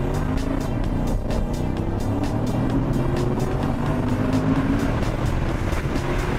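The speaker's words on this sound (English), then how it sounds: "The appropriately named Velocity Yellow Corvette had a sweetheart of a drivetrain." A Velocity Yellow Chevrolet C7 Corvette Stingray, 455 horsepower, drives steadily along a track, its engine a continuous loud drone with a faint rhythmic pulsing throughout.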